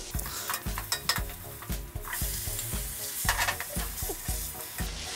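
Ginger green chili paste frying with boiled bottle gourd pieces in a pan, a steady sizzle with regular scraping stirs of a spoon against metal, close and fairly quiet.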